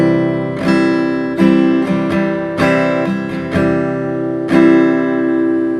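Acoustic guitar strummed in an uneven down-down-up-up-down pattern for a song, with clusters of quick strokes and sustained ringing chords between them, close and clear.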